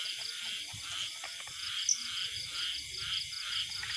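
Frogs croaking faintly in an outdoor night chorus, with insects chirping steadily in the background.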